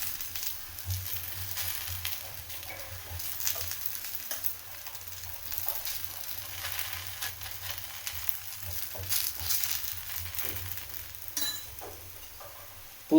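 Ragi roti frying in oil on a pan gives a steady, soft sizzle with faint crackles throughout, close and unbroken, with no voices.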